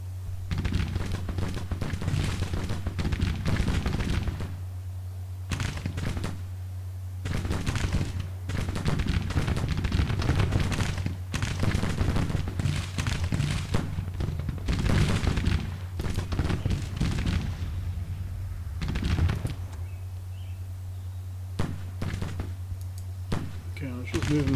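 Mounted cavalry firing from horseback in a Civil War strategy game, scattered volleys and rolling musket fire repeating throughout over a steady low hum, with a voice talking over much of it.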